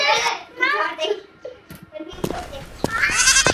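A mischievous goat bleats several times in a wavering, nasal cry, with one burst at the start and another near the end, mixed with a voice and some short knocks in between.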